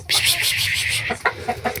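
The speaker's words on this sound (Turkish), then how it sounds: "Tavukları korkuttun tavukları tavukları tavukları." Several chickens cluck in a busy, overlapping flurry, with a few sharper squawks toward the end; no one speaks.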